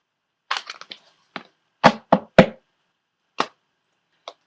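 A deck of Magical Mermaids and Dolphins oracle cards being shuffled by hand gives a close, irregular run of dry slaps and taps, some in quick clusters and others spaced apart, with no talking.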